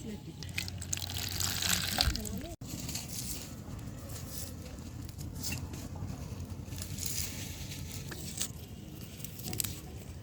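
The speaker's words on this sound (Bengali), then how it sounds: "আর চুলাতে আমাদের ডিম এবং আলু একসাথে সিদ্ধ হচ্ছে" Eggs and potatoes boil together in a pot on a stove, giving a faint, soft bubbling patter and light liquid splashes. Quiet voices murmur in the background.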